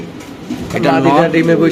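A white fancy pigeon gives a low, throaty coo that swells about halfway through, close and fairly loud, with a voice talking over it.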